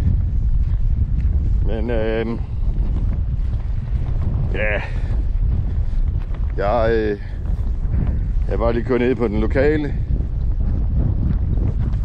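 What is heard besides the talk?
strong wind blowing into the microphone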